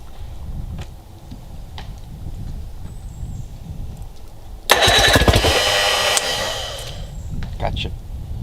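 An outboard engine is cranked over to check the ignition for spark, giving one loud, rough burst of whirring and rattling that lasts about a second and a half and then cuts off, with quieter ticking and handling noises before and after.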